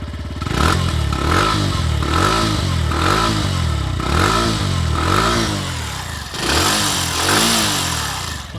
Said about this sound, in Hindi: इंजन का जो साउंड है वो कंप्लीट ही बदल चुका है, क्योंकि नया इंजन है, नया साइलेंसर है